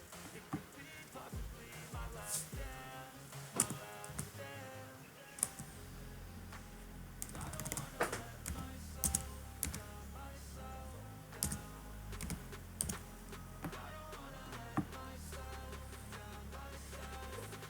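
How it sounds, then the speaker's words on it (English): Keys tapped on a computer keyboard while entering a PIN for an online payment, a run of light, irregular clicks over a low steady background, with no one speaking. "So I just entered my PIN now and it's waiting."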